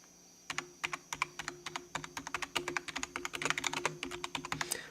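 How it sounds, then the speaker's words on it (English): Rapid, steady clacking of keys on a computer keyboard, close and clear, with a brief quiet moment before the typing starts and no talking. "I don't want to waste too much time clicking a keyboard"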